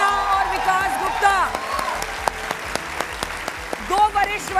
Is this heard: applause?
yes